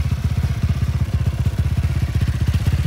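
A pit bike fitted with a 160 YX KLX-type engine fires up and runs, a rapid, even thumping exhaust beat that is loud and close throughout, with no speech.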